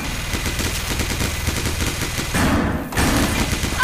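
Rapid bursts of gunfire from the Left 4 Dead 2 video game, likely a minigun, rattle continuously and loudly for the whole stretch, with heavier thuds near the end.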